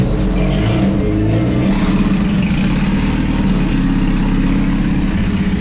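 Big-turbo Honda Civic with a new exhaust and manifold running close by, a loud, steady deep engine drone and exhaust rumble with no one speaking.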